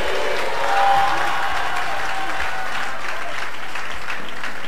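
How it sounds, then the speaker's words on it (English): A church congregation claps for Jesus during a prayer service, loud sustained applause that swells early and then holds steady, with scattered voices beneath the clapping. "Somebody clap for Jesus."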